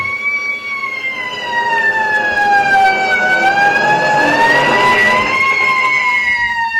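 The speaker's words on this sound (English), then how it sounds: "Oh, it's a fire engine." A 1950 fire engine siren wails loud and close, rising and falling in a long continuous sweep with traffic rumble beneath.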